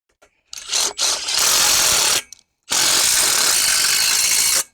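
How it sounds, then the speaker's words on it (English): A power tool drives 1-inch coated self-tapping screws into a wooden fence brace: a couple of short whirring bursts, then two long, loud, close runs separated by a brief pause, with no talking. "Let's get a couple more screws in them."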